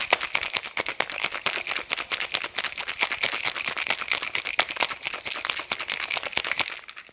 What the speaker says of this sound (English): Now shake until well chilled.